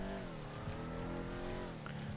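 A car's exhaust and engine in the video game GTA 5, a steady close drone with a low rumbling tone under a faint tire squeal, sounding alone.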